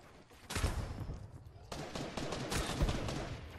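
Rapid bursts of gunfire in a Fortnite match, shooting down a player's builds, crackling densely and fairly close over a steady noisy bed, with a voice faintly present.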